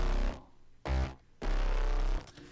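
Layered synth bass plays back in heavy pulses, deep sub and brighter top parts sounding together in three loud sustained notes with short gaps between.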